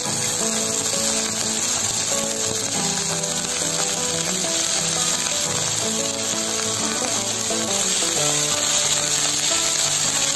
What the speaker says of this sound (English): Fry all the ingredients for the day. Now add potato peel.